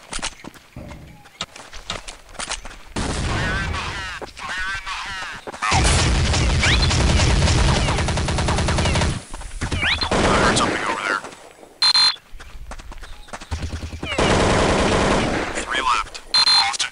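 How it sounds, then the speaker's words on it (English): SMG bursts ring out in the hostage-rescue shooter Counter-Strike: Condition Zero, loud rapid rattling volleys broken by short pauses and quieter stretches with footsteps. "Might as well use the SMG."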